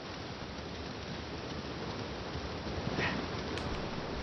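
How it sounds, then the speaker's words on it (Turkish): Steady rain in Uncharted 4 makes a dense, even hiss of drops on the ground, alone and unbroken, with no speech. "Yağmur mu başladı?"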